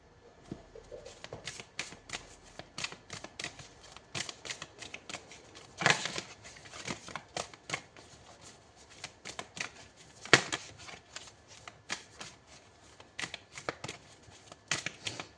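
A deck of tarot cards is shuffled by hand in repeated, crisp riffles and flutters. The bursts are close and moderately loud, with a few louder snaps, and no voice is heard.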